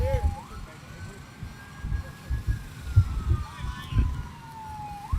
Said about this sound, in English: All the traffic behind us is all pulled over for the ambulance going past.